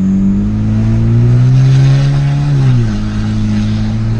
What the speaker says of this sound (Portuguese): O carro pega velocidade muito rápido, rapaziada.